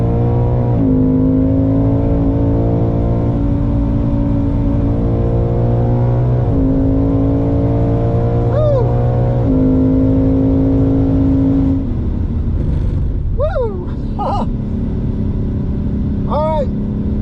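A normally aspirated Ford Mustang Mach 1 or Chevrolet Camaro SS 1LE on Sport Cup 2 tyres drives a racetrack, engine droning loud and close through gear changes, tyres squealing briefly through corners.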